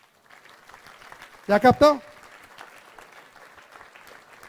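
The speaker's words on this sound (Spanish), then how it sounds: "Denle un aplauso al Señor." Congregation at a Spanish-language church service applauding: soft, distant clapping runs steadily in the background, briefly covered by a short spoken question from a man near the microphone.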